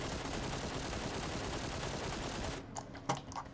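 AUG assault rifle fired in PUBG, a steady unbroken stream of rapid full-auto shots at close range, stopping abruptly and followed by a few faint clicks.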